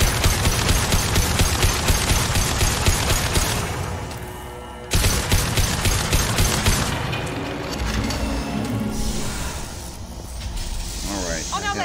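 Rapid gunfire in Mass Effect 2 rattles in dense, loud bursts of evenly spaced shots, breaking off briefly midway before resuming, with mechanical clatter and a voice talking underneath.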